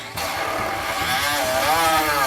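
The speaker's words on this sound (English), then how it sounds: "So I'm going to see if I can do it with the Dremel without gouging this thing." A Dremel rotary tool grinds on a car's ignition switch, a loud, steady high-speed whir that rises slightly in pitch as it bites into the part, heard up close with no talking.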